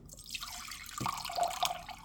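Water poured into a small glass jar, a short trickle and drip building into a brief splashing fill with a faint rising tone, quiet and close.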